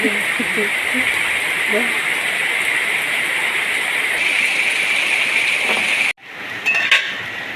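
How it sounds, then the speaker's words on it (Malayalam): Dense, steady rush of heavy rain, close and unbroken, cutting off abruptly near the end before a brief clatter. "നല്ല മഴ"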